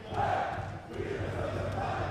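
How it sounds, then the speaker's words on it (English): Fans of Karmine Corp chanting and cheering at an LFL League of Legends esports match, a thick continuous crowd roar with slight swells, loud and unbroken across the short stretch. "Listening to that crowd, look at them go!"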